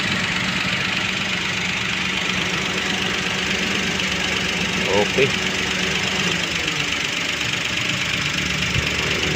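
A car engine idles steadily with its air conditioner compressor running, a constant mid-low drone close by, while a person speaks briefly over it.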